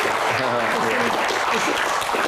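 A crowd at a Q&A session applauds loudly and close, its clapping blended with overlapping talk and voices throughout the short burst.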